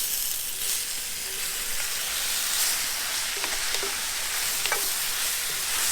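Wild amakhowe mushrooms fry in hot olive oil with a loud, constant hissing sizzle, under which a few faint pan knocks and utensil taps sound; no speech.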